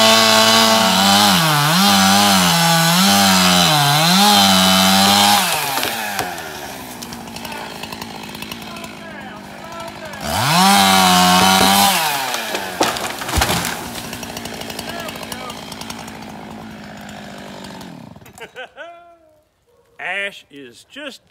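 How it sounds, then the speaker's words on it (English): A chainsaw cuts a dead ash tree for firewood, loud and close, the engine revving in bursts and bogging into the wood, then idling and cutting out, with talk near the end. "I'm gonna go ahead and take care of it right now."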